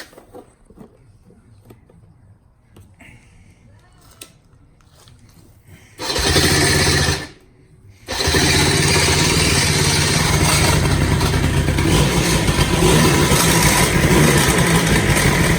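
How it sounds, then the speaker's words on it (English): A Dinley 100cc four-wheeler cranks with a brief whirring starter burst, pauses, then fires and runs at a loud steady idle close by, a continuous engine drone that holds to the end. "The starter is a little squealy. Fires right up."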